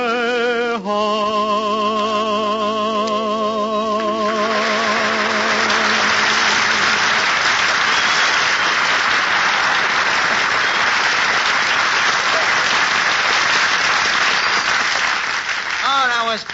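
An audience applauding after a singer's song, with the last sung notes fading at the start as steady, loud clapping swells and carries on to the end.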